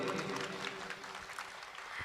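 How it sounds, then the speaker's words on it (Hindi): Applause from an audience at a priestly ordination felicitation and cultural program, a dense steady clapping that fills the whole short stretch at moderate loudness. "तालियां उन बच्चियों के लिए।"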